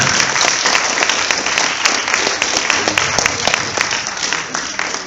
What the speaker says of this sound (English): Give them all a nice round of applause now